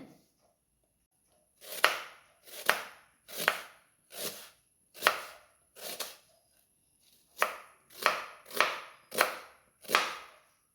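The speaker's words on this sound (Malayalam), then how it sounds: "അപ്പോൾ ദാ നമ്മുടെ സബോളയൊക്കെ അരിഞ്ഞ് വന്നിട്ടുണ്ട്" A knife chopping onions on a cutting board, a close series of about a dozen crisp, evenly spaced cuts with a short pause partway through.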